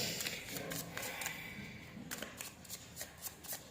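Tarot cards are shuffled and drawn in quick, soft riffling bursts and flicks, close and quiet, with faint breathy sounds of a person between them.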